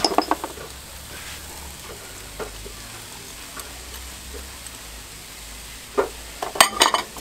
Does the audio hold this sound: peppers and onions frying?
yes